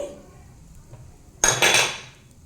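Cumin seeds go into a hot pan where pepper and coriander seeds are already frying, a sudden loud sizzling burst with light clinks that rises sharply, then fades over about a second after a quiet start.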